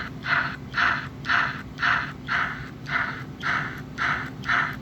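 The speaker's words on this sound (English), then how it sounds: "that's the chuff sound that you'll get with this particular setup" Rhythmic chuffing from an American Flyer model train digital sound system set up for a steam locomotive, a steady, evenly spaced series of about nine breathy bursts, close and moderately loud.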